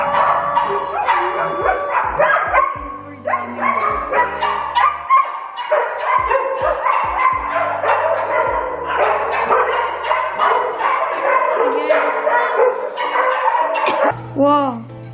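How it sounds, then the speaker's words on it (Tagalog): Many dogs at a dog cafe barking and yipping in a dense, continuous chorus of overlapping barks, close and loud, with a few whimpers, while a person speaks over the noise. "Wow! Ang daming aso!"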